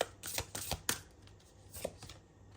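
Oracle cards are shuffled in quick, crisp bursts of riffling and flicking up close at first, then quieter occasional card sounds.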